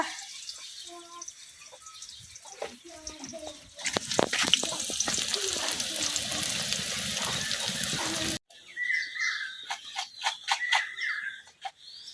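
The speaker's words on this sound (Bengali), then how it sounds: "তেল গরম হয়ে গেছে, এখন আমি দিয়ে দিতেছি 1 বাটি পেঁয়াজ" Oil sizzles and crackles loudly as a bowl of onions hits the hot pan, with a burst of frying that continues steadily, then quieter clinks and drips.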